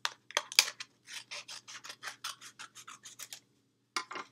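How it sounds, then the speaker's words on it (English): Scissors snip through a paper plate in a quick, steady series of close, crisp cuts, then stop briefly before one final cut. "And you could even cut the plate even further"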